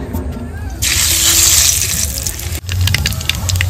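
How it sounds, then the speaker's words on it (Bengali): Black cumin seeds hitting hot mustard oil in a village kitchen pan give a sudden loud sizzle, a bright hiss that swells and then continues steadily. "তেল গরম হয়ে গেছে, তেলে দিয়ে দেবো কালো জিরে ফোড়নে।"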